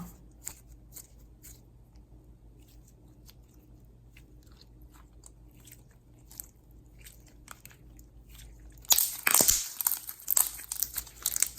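Faint crackles and light clicks at first, then a sudden burst of loud, crunchy crackling and popping close up as crunchy slime is squeezed.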